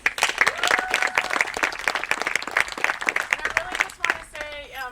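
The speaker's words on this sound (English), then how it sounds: "So if we could give them a round of applause." A crowd at a water system rebuild groundbreaking ceremony in Rio Dell, California claps for a senator and directors, sharp individual claps standing out near the microphone, tapering off at the end as a voice begins.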